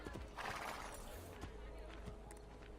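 In Assassin's Creed Brotherhood, a horse whinnies briefly, then hooves clop on hard ground, close by, with a busy ambient backdrop.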